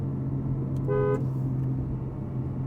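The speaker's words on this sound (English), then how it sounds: "But what of the world-famous horn test?" A short, thin Porsche 718 Cayman GTS 4.0 horn toot lasting about a quarter second, fairly weak and nasal, over steady low road and engine rumble.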